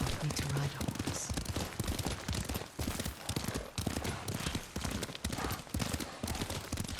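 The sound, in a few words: horse hooves clip-clop, video game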